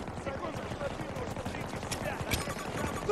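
Rapid machine-gun bursts in Battlefield 2042 Season 3 rattle loudly and almost without pause, layered with distant shots and faint voices in the mix.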